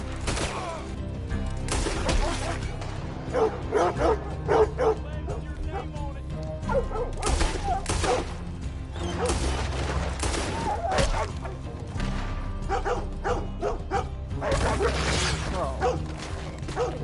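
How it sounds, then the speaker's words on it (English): Several dogs bark and yip in Red Dead Redemption 2 Online, sharp repeated barks and whimpers close by, mixed with gunfire-like bursts and mechanical game sounds, with a voice talking over them. "These freaking dogs, because they sometimes do that when they hunt me down"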